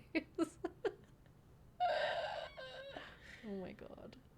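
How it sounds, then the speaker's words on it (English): Birds calling inside the Nancy Drew game Curse of Blackmoor Manor: four short clucking or crowing calls in quick succession, then a louder harsh burst and more squawks, with faint breathing and talk nearby. "I already said the bird was making bird noises"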